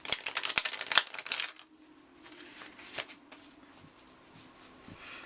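Stiff tarot cards being shuffled: a dense, loud run of snapping riffles for about a second and a half, then quieter scattered card flicks and taps.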